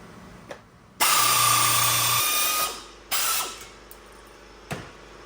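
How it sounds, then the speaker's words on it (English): A nibbler cuts sheet metal in a straight line on a bench while repairing a rusty rocker panel on a 1998-or-later Ford Crown Victoria, giving loud rapid mechanical chattering bursts, one long run, a shorter second pass and a brief final snip. "now we can use our nibbler to cut along that straight line that I've drawn"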